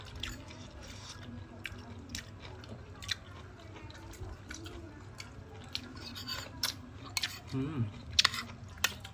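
Someone chews koi, a spicy Lao-Thai minced meat salad, with faint, close, wet smacking and crunching at an uneven rhythm, growing slightly louder toward the end.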